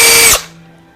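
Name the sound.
electric drill running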